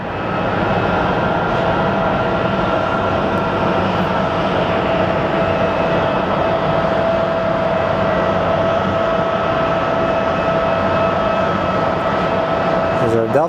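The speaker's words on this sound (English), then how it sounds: "All right, let's look at our next plane arriving." A Delta airliner from Seattle arrives at Phoenix Sky Harbor airport, its jet engines a loud, steady roar with a sustained whine that holds constant throughout.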